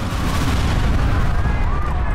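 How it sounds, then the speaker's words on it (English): A heavy explosion in the video game Watch Dogs rumbles loud and close as a continuous booming roar with low crackling debris throughout. "There's just giant explosion and stuff."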